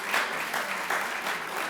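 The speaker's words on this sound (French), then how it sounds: "je voudrais qu'on les applaudisse très très fort quand même" An audience at a debate competition between the Biscuiterie and Gueule Tapée teams gives sustained applause, a dense even clapping that swells in soft waves for under two seconds.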